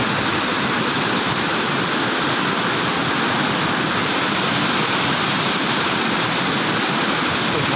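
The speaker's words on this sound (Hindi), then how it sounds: "पूरा पहाड़ के अंदर से ही आता है पानी, पूरा फोर्स से आता है।" Water gushing forcefully out of a mountainside into the Ganga near Gangotri, a dense, loud, steady roar of rushing water like a waterfall, continuous with no breaks.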